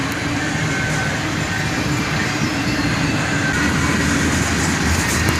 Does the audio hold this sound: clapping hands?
no